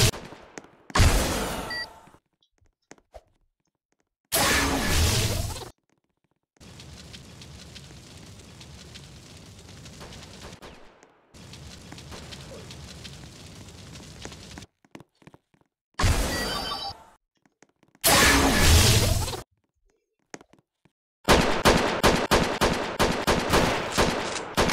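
Roblox gunfire comes in several loud separate bursts of shots with silent gaps between them, alternating with longer steadier stretches of rumbling, and a rapid string of shots closes the sequence.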